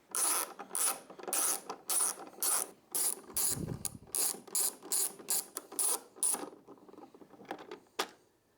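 A ratchet fitted with a T25 Torx bit clicks in quick, steady bursts, close up, while backing out the bolts of a small fairing bracket on a 2024 Harley-Davidson Road Glide. The bursts stop briefly and end with a single louder click.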